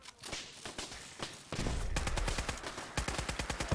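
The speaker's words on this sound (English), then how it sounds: "Yeah, I hear it. It's gunfire, Cait." Rapid bursts of gunfire in Fallout 4 crackle at a distance, then grow louder and denser with quick repeated shots, like automatic weapons firing in short volleys.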